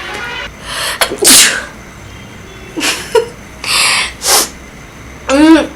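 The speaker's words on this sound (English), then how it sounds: "I'm gonna sneeze." A few sharp breathy bursts and gasps build up to a single loud sneeze at the end, close by and with no talking.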